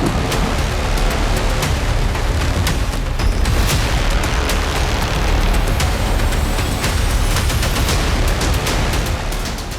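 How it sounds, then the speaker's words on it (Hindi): Explosions and missile blasts in a war report roar as a dense, continuous barrage of booms and sharp cracks, loud and unbroken, with no voices. "धमाके होते रहे, इमारतें जलती रही, मिसाइलें गरजती रही, ड्रोन बारूद गिराते रहे।"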